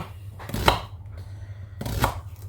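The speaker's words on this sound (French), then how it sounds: "Voilà, donc on les coupe comme ça." Knife chopping shallots into pieces on a board, two distinct sharp cuts about a second and a half apart, close and clear over a low steady room hum.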